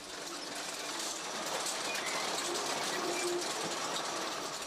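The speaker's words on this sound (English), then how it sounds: "Sidney Absalom is working with a high-tech machine which carves its way through the earth" A high-tech machine carves its way through the earth and stone, making a continuous, moderately loud mechanical rattle and grinding rumble without breaks.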